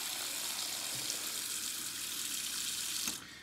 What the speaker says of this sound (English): Eggs are finished, so I empty the hot water and cold water instead.